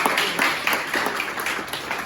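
Classroom applause from a group of students in an Indonesian Catholic religion class, a steady broadband patter of many hands clapping close by, continuous for about two seconds.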